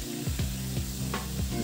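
Prawns hitting red amaranth greens in a hot pan, a loud steady sizzle with a few rhythmic stirring scrapes across the short stretch, close and alone without any voice.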